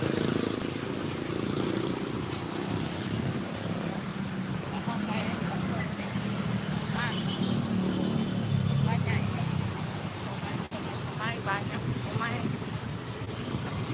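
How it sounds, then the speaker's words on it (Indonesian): A motorcycle rolls slowly with a low, steady engine hum under continuous wind rush on a relaxed afternoon ride, with no sharp revving. "Ini pelan-pelan sekali nih motornya ya teman-teman"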